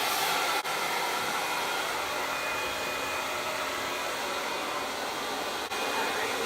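A handheld hair dryer blows steadily while drying and styling a woman's fringe, giving a loud, continuous close-up whoosh with only brief dips in airflow and no talking.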